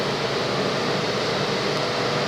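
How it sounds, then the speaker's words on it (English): A bathroom ventilation fan runs with a steady, broadband whooshing hum, constant and close, with no other sounds over it. "pardon the noise from the fan here."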